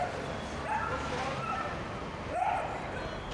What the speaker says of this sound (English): Nowhere in the world will you see as many dogs as in Paradise Valley.